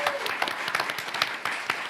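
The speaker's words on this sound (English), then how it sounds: "Give them a round of applause" An audience at an evening panel event bursts into applause for the panellists. Many hands clap in a dense, steady patter that fills the room for a couple of seconds.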